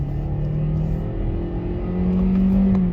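A Hyundai Elantra engine revs under acceleration, a steady close hum that rises in pitch and grows louder toward the end, heard alone.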